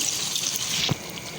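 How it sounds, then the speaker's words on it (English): About a cup of water is poured into a pot of boiled pulses for daal gosht, a short steady close gush with a small splash near the end. "So I'm adding here around 1 cup of water."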